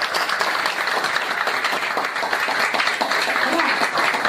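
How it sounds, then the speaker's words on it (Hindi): Loud, dense applause from an audience fills an award ceremony for a national children's prize, with many hands clapping steadily and close up throughout. "जोरदार ताली"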